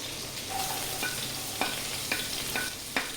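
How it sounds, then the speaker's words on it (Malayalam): Ginger and garlic fry in melted butter in a pan for tomato soup, giving a steady soft sizzle with a few brief clinks of stirring, close and alone with no voices. "ബട്ടർ ഉരുകി കഴിയുമ്പോൾ നമ്മൾ ഈ അരിഞ്ഞു വെച്ചിരിക്കുന്നതൊക്കെ അതിലോട്ടിട്ട്, ആദ്യം ഇഞ്ചി, വെളുത്തുള്ളി,"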